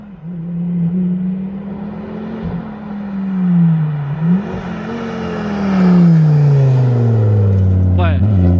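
A Ford Focus RS with a five-cylinder engine and stainless steel exhaust drones steadily, rising and falling in pitch as it passes nearby, loud throughout, with a rasping burst near the end.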